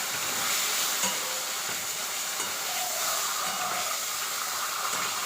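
Khesari lentil fritters (bora) fry in hot oil with a continuous bright sizzle and hiss. Occasional soft stirring clicks come through, and no voices are heard.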